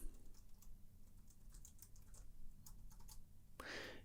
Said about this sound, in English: you're going to type in drop shadow